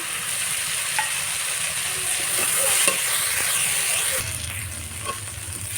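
Vegetables frying in a pan alongside dried shrimp, a steady close sizzle with occasional stirring scrapes and clinks, continuing throughout without talk.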